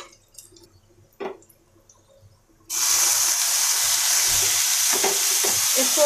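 Finely chopped tomatoes hitting a pan of sautéed onion and capsicum for macaroni. A few soft clinks and taps come first, then a sudden loud, steady sizzle that keeps going under light stirring.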